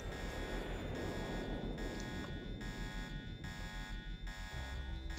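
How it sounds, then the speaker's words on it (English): A buzzing electronic alarm sounds in the stealth action game Deus Ex, a harsh tone pulsing on and off in a steady repeating rhythm over low background noise. "A tiny alarm"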